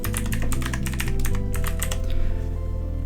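A computer keyboard clatters with quick, close keystrokes as a file name is typed, a dense uneven run of clicks for about three seconds with a low background hum and no speech.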